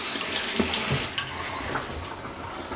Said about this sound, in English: Just give my hands a quick rinse.